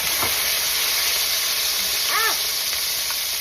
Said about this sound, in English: I have 3 hot cherry peppers that I've also sliced into nice little teeny tiny pieces. And I'm gonna fry them up